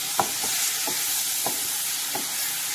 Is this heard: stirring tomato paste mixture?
yes